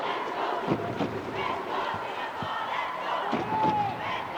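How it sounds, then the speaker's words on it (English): Home crowd noise from Singapore fans at a men's wheelchair basketball game against Thailand at the ASEAN Para Games, a steady roar of cheering and shouting in a large arena with occasional thuds and a brief whistle. "Singapore fans cheering nice and loud"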